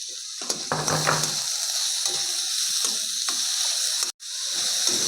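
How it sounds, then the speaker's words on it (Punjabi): Finely chopped onion with green and red capsicum sautéing in a pan for cabbage Manchurian hiss in a continuous bright sizzle, broken by a few spatula scrapes and clinks against the pan, loud and close. "ਸਬਜ਼ੀਆਂ ਨੂੰ ਆਪਾਂ ਹੁਣ ਵਧੀਆ ਜਿਹਾ ਭੁੰਨ ਲਿਆ"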